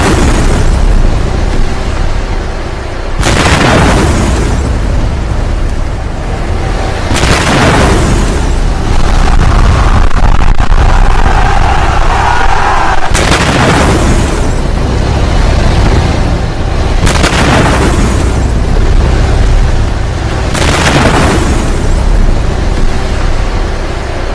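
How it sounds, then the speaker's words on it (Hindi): A rapid series of heavy explosions in Iran, loud booms recurring every few seconds with rumbling blasts between them, close and dominating throughout. "एक के बाद एक ईरान में सिलसिलेवार धमाके हुए कुछ इस तरह से। एआई वीडियो है"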